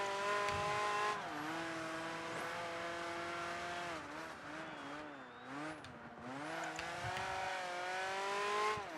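A race car in Project Gotham Racing 3 skids through turns, its engine note rising and falling under a long tire squeal. It is loud and close, with no talk.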